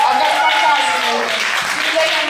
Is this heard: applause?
yes